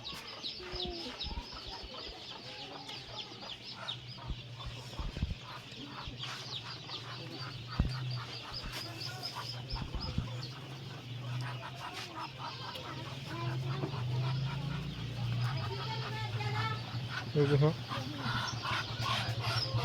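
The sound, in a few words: crowd of ducklings being delivered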